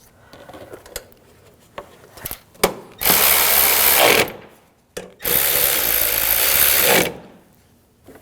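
A power tool drives screws while a 2007–2013 BMW 328i 3.0L inline-six intake manifold is fitted, giving two sustained loud whirring bursts after several short clicks and taps.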